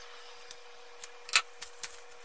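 Scissors snip through a paper pattern for a Worbla cosplay piece, giving a handful of quiet, separate cuts spaced irregularly, with one sharper, louder snip in the middle.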